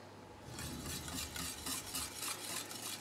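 A spoon works steadily through melted chocolate mixed with curd as it thickens in a pot, making close, rhythmic scraping and swishing strokes with no talking.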